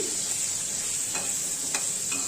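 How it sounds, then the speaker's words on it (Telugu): Bitter gourd frying in a pan as a quarter spoon of turmeric is stirred in for bitter gourd curry, a steady close sizzle with a few soft scrapes of the spoon and no talk. "ఇప్పుడు ఇందులోకి 1/4 చెంచా పసుపు వేసుకుంటున్నాను. వేసుకుని ఒకసారి బాగా కలుపుకోవాలి."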